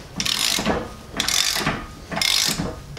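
Ratchet with a 36 mm socket loosening a rear brake bolt on a Renault Megane 3: three rasping clicking strokes, close and fairly loud, with brief pauses between them and no talk.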